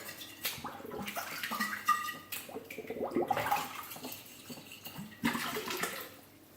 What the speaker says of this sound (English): I'm just going to rinse them out just to make sure nothing's inside of them